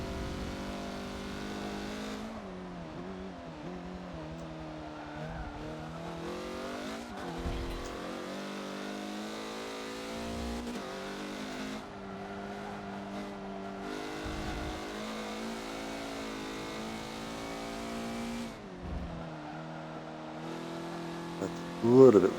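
A race car in Forza lapping Laguna Seca, its engine droning and shifting steadily for a long stretch, with faint squeals from the rear tires as they step out, ending in a louder burst.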